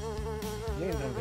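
A tsetse fly buzzes loudly and close, a steady droning hum that wavers slightly in pitch as it moves, with no voices.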